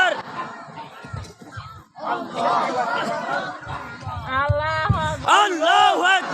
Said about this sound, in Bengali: এবার আকাশ বাতাস মুখরিত করে তাকবীর দিতে হবে